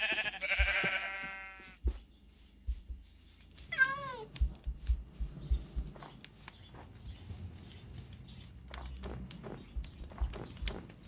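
A Minecraft cat meows in a few short rising-falling calls around the middle, amid game sound effects, footsteps and clicks in a busy in-game scene.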